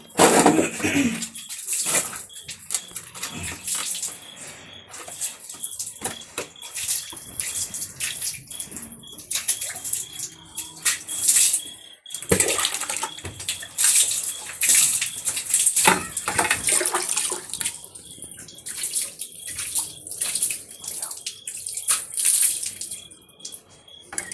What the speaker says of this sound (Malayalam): അകിടൊക്കെ നന്നായിട്ട് വെള്ളം ഒഴിച്ച് കഴുകി കൊടുക്കുവാണ്